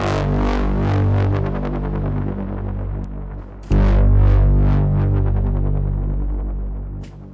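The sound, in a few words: synth with analog distortion effect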